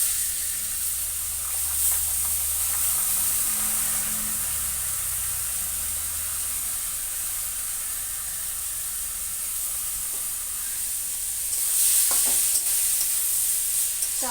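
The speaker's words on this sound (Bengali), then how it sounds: "সুন্দর করে চালটা ভাজা হবে।" Raw rice fries in oil with cinnamon and cardamom, giving a steady, loud sizzle and hiss that runs the whole time, with brief stirring scrapes and a louder burst of spitting near the end.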